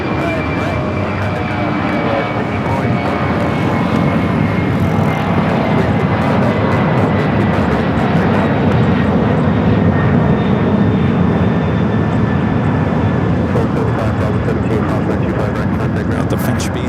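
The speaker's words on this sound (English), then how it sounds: "Got that DHL 76 taking off." A DHL cargo airplane takes off at Los Angeles International Airport, its engines a loud sustained roar held throughout, with a person talking over it.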